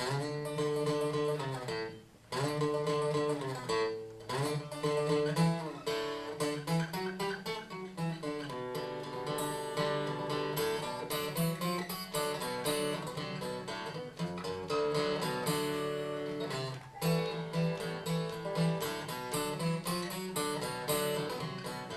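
Lively New Orleans-style mess around music, blues, with a bouncy, swinging rhythm and layered melodic instruments, playing continuously at a moderate volume.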